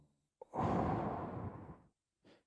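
A single deep breath, drawn in and slowly released as a long, full exhale, close and fairly loud, followed after a short pause by a fainter second breath.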